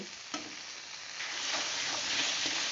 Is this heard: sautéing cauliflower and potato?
yes